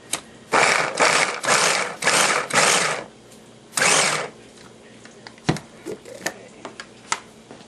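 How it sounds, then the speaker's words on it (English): A Ninja food processor chops carrots for fisherman's chowder, running in about five loud whirring bursts, then one more, before quieter clicks and taps of the lid and bowl. "this is a Ninja food processor"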